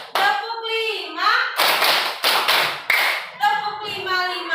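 Students in a primary classroom clap in unison on a teacher's count, with a short run of several crisp, close claps between a voice calling out numbers.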